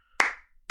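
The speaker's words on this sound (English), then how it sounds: "Slow clap." A single slow clap of two hands, sharp and close, followed by the start of a second clap after a short pause.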